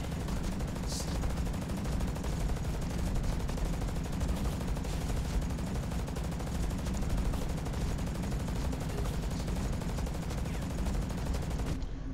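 Submachine gun firing in the video game Hawken from a Bruiser medium mech, a dense, sustained stream of rapid shots that runs unbroken for about twelve seconds, loud and close.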